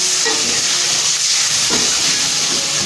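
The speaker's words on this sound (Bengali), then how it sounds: "দেখুন আমার কড়াটা ধরে আসছে, তাই অল্প একটু জল দিলাম।" A splash of water hitting a hot kadai of tomato masala, giving a loud, continuous steam hiss and sizzle that fills the whole moment without any talking.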